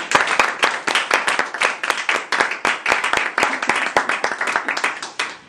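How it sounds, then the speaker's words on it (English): An audience at an award presentation claps for the recipient. Sharp, distinct handclaps come in quick irregular bursts at close range for the whole stretch, with no speech over them. "If everybody could give him a round of applause for what he's done."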